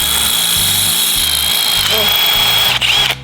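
A power drill bores through a part on a stunt motorcycle, a loud, steady, high whine held close up for about three seconds with a low pulsing drone underneath, cutting off abruptly at the end.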